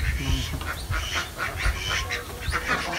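Ducks quack over and over on a duck farm, a dense nasal chorus of birds close by with steady calls and a faint murmur of voices in the background.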